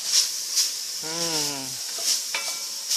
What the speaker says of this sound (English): Let the spices get a little toasty.